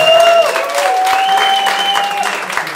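A crowd at a Lithuanian sauna whisking championship at a Šiauliai spa gives loud, sustained applause for the second-place winner, with a clear melodic tone sounding over the clapping.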